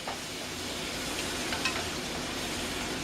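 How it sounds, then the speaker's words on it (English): Garlic being stirred into sizzling chili in a pan, a steady close frying hiss with a few soft scrapes of the spoon near the middle, no voices. "Going to put our garlic in here. We're going to mix this all together."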